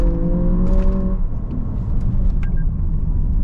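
A 2024 Lexus RX 500h F Sport hybrid pulls hard at full power on a twisty road, a loud close engine and drivetrain roar with a rising whine early on, then steady rumbling road noise.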